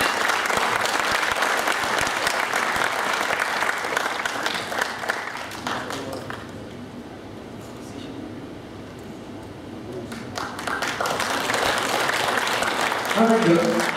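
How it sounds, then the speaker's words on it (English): Thunderous audience applause for a panel of speakers at a business forum, loud continuous clapping that dips into a murmur of voices midway, then swells again into full applause near the end. "I'd like to give them a thunderous round of applause."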